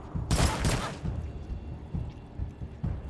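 A gunshot fires in the tactical video game Wasteland 3: a loud, sharp double blast near the start, trailing into a low rumbling tail, followed by quieter thuds, with faint speech in the background.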